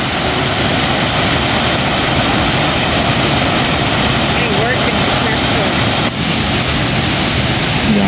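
Tinuy-an Falls waterfall roars as a dense, steady wash of broadband noise, loud and continuous throughout, close to the falling water, with no breaks.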